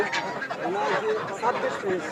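Geese brought from Kishoreganj honk in short, scattered calls at a village market stall in Bangladesh, mixed with a busy background murmur.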